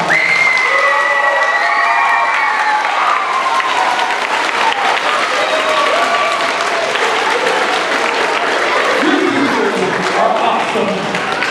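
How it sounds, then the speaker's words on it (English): Loud, sustained applause from a large crowd at a school assembly fills the space, steady clapping with a few cheers mixed in. "I want you guys to give your teachers a big round of applause."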